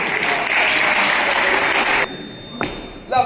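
Applause from onlookers after a staged sword-fencing duel, a sustained wash of clapping that cuts off abruptly partway through, followed by a few isolated thumps and taps.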